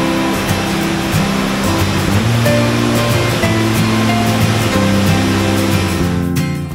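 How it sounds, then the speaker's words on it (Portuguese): The Cachoeira do Índio waterfall gives a steady, full rushing roar of falling water, heard close and continuous with no voices. "caminhando um pouco, chegamos aqui na Cachoeira do Índio."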